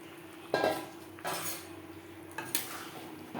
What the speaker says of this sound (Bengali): গ্রেভি বেশ ভালো করে ফুটতে শুরু করে দিয়েছে এই পর্যায়ে দিয়ে দেব ভেজে রাখা মাছ